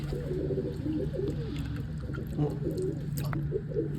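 Pigeons coo in soft repeated low murmurs close by, their throaty calls running throughout, with a person talking over them.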